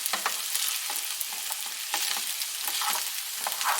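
Jambalaya is stirred in a frying pan, a close, busy run of scraping strokes over a bright, constant sizzle with no voices.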